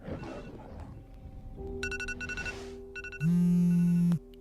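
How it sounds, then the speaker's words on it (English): An alarm rings in short electronic bursts, then settles into a loud, sustained buzzing tone before cutting off. "You set that alarm last night."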